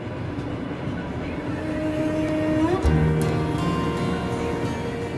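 The Zarengold passenger train on the Trans-Siberian route rumbles steadily along the rails, with a low continuous roar and a few brief metallic squeals partway through.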